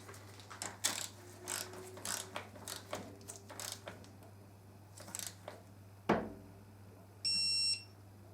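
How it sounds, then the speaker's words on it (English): A torque wrench ratchets on the sprocket bolt of a 2013 Aprilia Tuono held in second gear, set to 50 newton meters, giving scattered clicks and short mechanical bursts, one sharp snap near the end, then a brief high electronic beep. "got my trusty torque wrench, 50 Newton meters"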